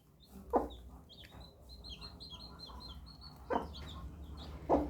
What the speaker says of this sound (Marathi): ही कोंबडी जवळजवळ 2 वर्षाची कोंबडी आहे